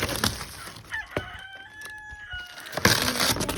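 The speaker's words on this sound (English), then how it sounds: "Rooster's making a noise today." A rooster crows nearby over background noise, with a few scattered knocks and rustles around it.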